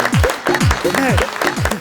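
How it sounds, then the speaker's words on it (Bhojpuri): An audience claps at a Bhojpuri film event in a short burst of quick, loud, close handclaps, with rhythmic thumping beats and voices mixed in. "तालियां"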